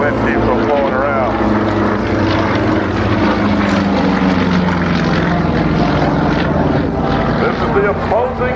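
Aerobatic propeller airplanes drone through an opposing loop at an air show, a loud continuous engine roar with shifting pitch as they pass, heard under steady commentary.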